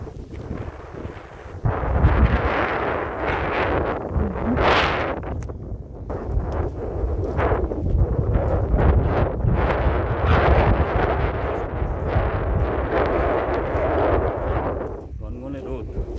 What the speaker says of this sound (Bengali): প্রথম কথা হচ্ছে হাওয়া প্রচুর